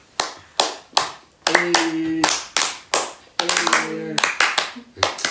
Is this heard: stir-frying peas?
no